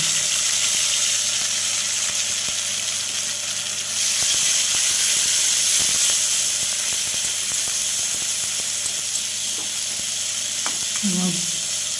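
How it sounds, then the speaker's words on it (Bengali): Potatoes with a ground spice paste fry in oil in a pan, giving a steady, bright sizzling hiss with faint scattered clicks and a brief tonal squeak near the end. "এইবারে আমি আমার ওই বাটা মশলাটা দিয়ে দিলাম ওটা দিয়েও খানিকক্ষণ ভেজে নেব"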